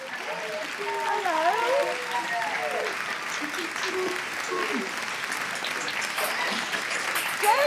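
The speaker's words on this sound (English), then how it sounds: "please give yourselves and each other a big wave of the flags and a big round of applause." At an awards ceremony, an audience gives a continuous round of applause, a broad, steady wash of clapping under a presenter's voice and cheering.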